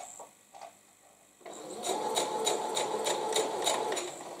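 A sewing machine stitches quilt pieces together, starting after a few quiet clicks and then running in a steady, fast, rhythmic whir with regular needle pulses, close and moderately quiet.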